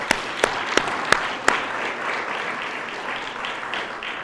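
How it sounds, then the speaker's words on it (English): Audience applause for new board members at a Main Street Medina nonprofit annual meeting, opening with a few sharp, loud nearby claps in a row before settling into a softer, steady patter of clapping. "A round of applause for our new board members."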